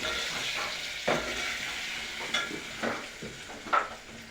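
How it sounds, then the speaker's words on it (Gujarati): Boiled potatoes being stirred into poha in a pan, with a steady sizzle under several scraping strokes of a spoon, all close and without talk. "હવે બટેટા નાખશું બાફેલા અને મિક્સ કરી નાખશું।"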